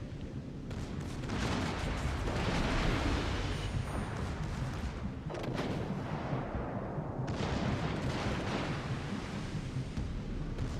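Naval gunfire between cruisers in World of Warships: Legends, a continuous roar of heavy cannon salvos and explosions with sharp bursts over rushing sea ambience, loud and sustained throughout.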